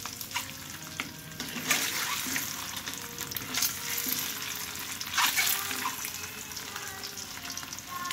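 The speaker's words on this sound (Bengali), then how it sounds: "তারপর তুলে নিয়ে এই যে আমি হলুদ দিয়ে সুন্দর করে ভেজে নিচ্ছি।" Food frying with turmeric in mustard oil, a steady broadband sizzle with scraping stirs and a few water-like splashes and clinks, moderately close and continuous throughout.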